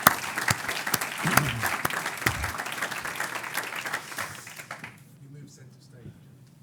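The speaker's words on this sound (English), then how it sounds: "please give them a round of applause" Audience applause fills a hall at the close of a summit during a ceremonial stage handover, steady and dense for about five seconds before fading out, with a few voices mixed in.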